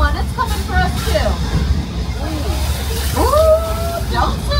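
Rushing, sloshing water from the flash-flood practical effect on the Universal Studios Hollywood tram tour, heard amid crowd chatter and excited voices from the tram.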